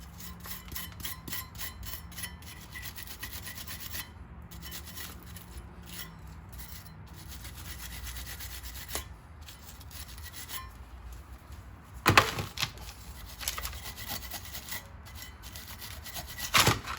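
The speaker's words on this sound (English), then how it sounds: "I'm gonna go ahead and clean this out pretty good with a brush" A brush scrubs a brake caliper bracket clean during a front brake job on a 2011 Toyota Sienna, giving soft, rapid scratchy strokes close by, rough and uneven, with a few louder scrapes toward the end.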